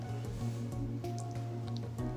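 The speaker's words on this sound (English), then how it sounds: "I'll be going in with 2 ounces, which is 60 ml, of my tonic water to dilute" Tonic water poured into a glass over blue curacao syrup gives a steady liquid gurgle with small drips and splashes, close and continuous for a couple of seconds.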